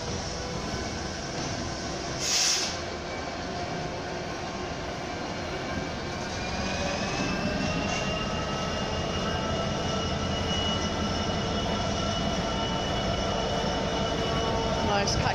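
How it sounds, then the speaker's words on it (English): A freight train hauled by a Class 70 diesel locomotive at the front and an EWS-liveried Class 66 at the rear passes through Westbury station, a steady, loud rumble and rolling wagon noise with a brief high squeal early on. "front locomotive is a Class 70 unknown. Rear locomotive is Class 66, number 162."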